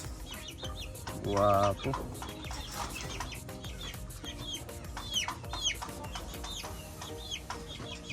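A Sweater Kelso gamefowl rooster in a backyard breeding yard lets out a loud, harsh crowing call near the start, followed by scattered clucks and chirps from nearby birds while someone speaks briefly.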